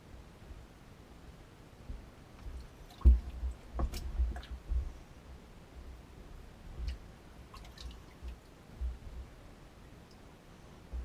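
Wet leather for a gun holster soaking in water, with soft drips and squishy handling sounds that come in a cluster near the middle, quiet and close against a low background hiss.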